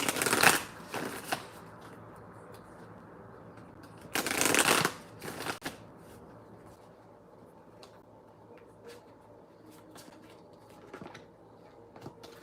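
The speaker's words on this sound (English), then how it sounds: "I just need 2 hands to shuffle." Tarot cards shuffled by hand, with two loud riffling bursts near the start and around the four-second mark, then quieter intermittent card flicks and soft handling, close up with no talking.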